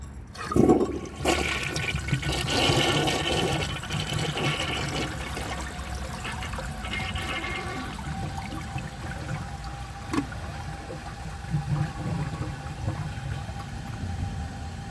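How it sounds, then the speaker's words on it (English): A clogged 1981 Briggs Conserver concealed jet toilet flushing with an overfilled tank, a close rushing gush of water that settles into a long trickling, gurgling drain with occasional small splashes. "That's clogged hard, and no amount of flushes will get it through"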